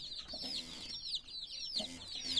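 Young Leghorn chicks peeping continuously in a farm coop, a dense stream of high, rapid chirps from several birds close by, with a faint background murmur.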